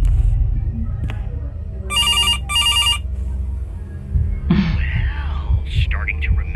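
A telephone rings in the mobile horror game CASE: Animatronics, two short electronic ring bursts close together near the start, heard over a low hum and game ambience, with eerie tonal sounds following.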